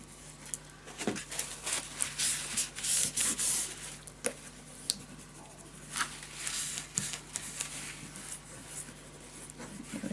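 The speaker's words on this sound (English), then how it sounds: "Burnish it down." Black paper edges being burnished down by hand for a scrapbook pop-up album, close scratchy rubbing strokes in irregular bursts with brief gaps, quiet and without speech.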